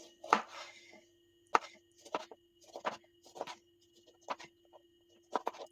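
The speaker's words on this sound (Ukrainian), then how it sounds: "Швиденько наріжемо лимончик. Можна півкільцями, можна кільцями." A knife slices a lemon into rings on a board, giving about seven separate, close, crisp cuts at an uneven pace in otherwise quiet surroundings.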